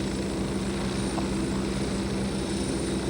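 A British military helicopter during the 1982 Falklands War, its rotor and engine drone steady and continuous throughout, heard alone with no talk.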